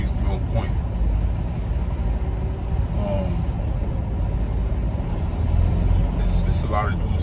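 A truck rolling down the road, heard from inside the cab, gives a loud, unbroken rumble of engine and tires that holds steady the whole time.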